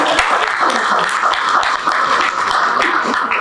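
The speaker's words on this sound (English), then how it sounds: "Round of applause" A room of attendees at a community meeting gives a round of applause, a loud, continuous patter of many hands clapping at close range, steady from start to finish.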